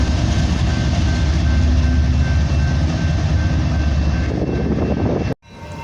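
A freight train hauled by three locomotives with three distributed power units roars past close by in a loud, steady wash of engine and wheel noise that cuts off abruptly near the end.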